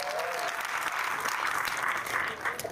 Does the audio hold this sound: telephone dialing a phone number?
no